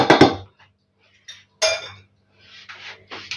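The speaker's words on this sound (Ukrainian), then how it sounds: "І покладу сюди у варення і додаю пів кілограма борошна. І все розмішую." A spoon scrapes and clinks against a bowl while jam is stirred together with half a kilogram of flour for a lenten pie: a few short, close clatters separated by quiet pauses, with no talking.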